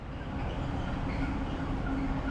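A Class 165 diesel multiple unit at a British station, heard as a steady, close, loud rumble of the idling train with a faint whining tone, continuous and without talk.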